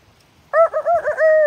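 Backyard chickens give a single bird's warbling, harmonic call lasting about a second, close by and fairly loud after a short quiet lead-in, with no talking.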